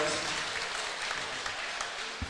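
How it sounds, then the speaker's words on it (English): Crowd applause for fighters at a fighting championship event, a broad, sustained roar of clapping and cheering from a large audience, with voices mixed in and a thump near the end. "big round of applause for these fighters."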